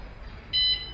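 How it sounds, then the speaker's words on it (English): A bike anti-theft alarm gives one short, bright electronic beep as it arms, sounding alone after a moment of quiet hiss. "Wait for the beep."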